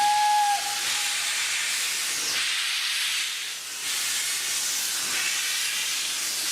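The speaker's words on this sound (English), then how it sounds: "the dining train leaves the station." A heritage dining train leaving the station gives off a steady, loud steam hiss that fills the whole stretch, with a short high whistle-like tone at the very start and a brief dip in the middle.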